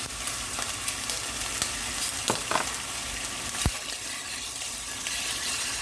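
Bacon strips lightly seasoned with pepper fry in a pan, a continuous close sizzle with a few sharper pops and crackles over several seconds, no one speaking.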